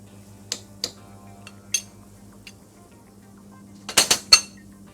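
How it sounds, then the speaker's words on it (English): A spoon stirs rice in a metal cooking pot, giving a few sparse clinks and taps against the pot, then a quick cluster of sharper knocks, with a low steady hum underneath. "Just a nice little stir."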